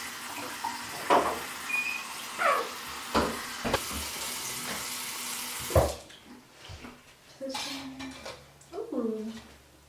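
Cold water runs from a tap while roots are rinsed during houseplant care, a steady splashing stream with clatters and handling sounds, faint talk in the second half.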